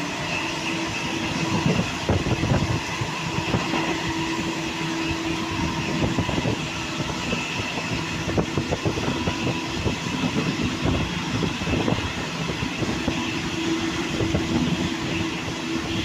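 The Parashuram Express rumbles steadily along the rails, with a continuous loud roar and rhythmic clickety-clack of wheels over joints, heard from inside or alongside the moving train throughout.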